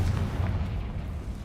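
In the video game Hogwarts Legacy, a Confringo spell explosion hits a damaged bridge, giving a short, dense, booming rumble that holds steady and low throughout.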